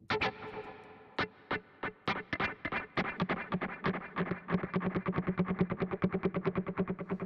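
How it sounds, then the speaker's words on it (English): An electric guitar run through a delay effect, with sharp plucked notes repeating in echoes, sparse at first, then a quickening stream of pulsing repeats, moderately faint and with no voices. "But I want like louder delay."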